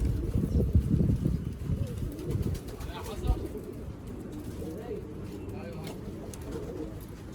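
Domestic pigeons coo in a loft, low throaty murmurs rising now and then among rustling and movement, with someone talking over them for much of the time.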